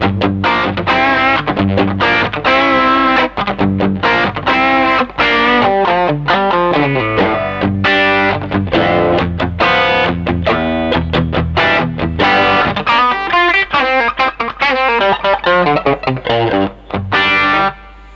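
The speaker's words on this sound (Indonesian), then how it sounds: "itu pakai overdrive" A Telecaster electric guitar with an upgraded Duncan Design bridge pickup, played through an overdrive pedal, gives a loud, continuous stream of crunchy driven chords and notes with no talking.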